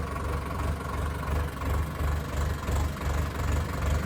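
A paddy transplanter machine's engine runs steadily at idle, a loud, close, rhythmic low chugging throb that holds through the whole stretch with no voices.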